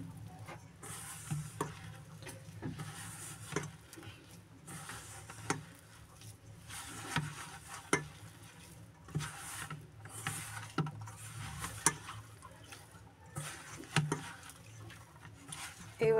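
Flour dough for luchi being kneaded by hand, soft rhythmic squishing and rubbing strokes repeating every second or so, close and quiet, with occasional sharper presses.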